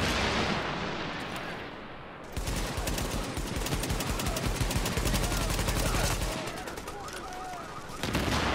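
Heavy combat fills a scene in The Division video game set around Times Square, with booming blasts such as a dropped grenade going off under a near-constant roar of loud automatic gunfire and a brief voice.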